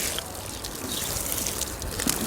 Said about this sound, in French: Petit coup d'eau.